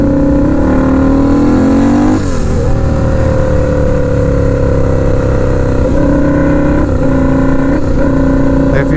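A turbocharged car pulls hard away from a stoplight, its engine droning loud and close as it revs up through the gears with brief dips at each shift.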